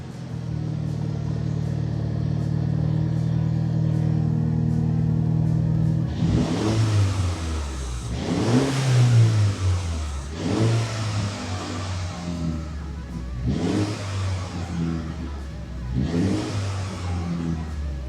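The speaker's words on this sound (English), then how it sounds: "let's turn on the car and let's see if the RPMs will stay caught up" A Mini's engine cranks and starts, settling into a steady idle, then gets revved several times in rising and falling surges, heard close and alone with no talking.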